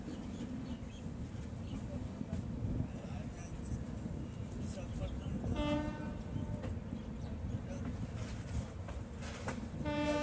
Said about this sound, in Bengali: বন্ধুরা চলে আসলাম কোরাপুট জাংশন স্টেশনে